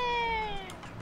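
A creepy-looking cat creature in the video game Ragnarok Online lets out a single short, high, downward-sliding meow, moderately loud and alone.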